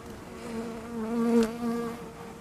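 Steady droning buzz of many honeybees at the hive, layered wing tones humming continuously with a slight swell midway, close and fairly loud, no voices.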